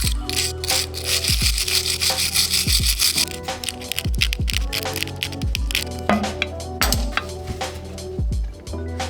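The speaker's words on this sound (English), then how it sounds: "we're gonna start by just scuffing this up, super gluing it, and then get to the welding" Plastic trim is scuffed by hand before being super glued, producing close, scratchy rasping strokes in an irregular rhythm over a low background hum.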